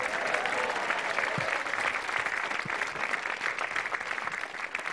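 Steady, dense applause from a live comedy show audience, many hands clapping continuously and evenly throughout, moderately loud with a faint crowd murmur and no clear speech on top.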